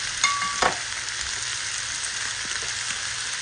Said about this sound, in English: a big pot, excuse me, so those could fry. Probably add some oil so it can fry